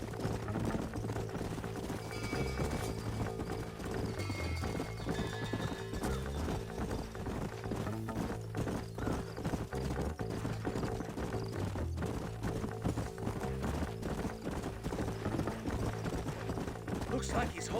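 Horses in the Western game Red Dead Redemption trot with continuous rhythmic hoof clip-clop, with neighs mixed in, under background music and occasional voices.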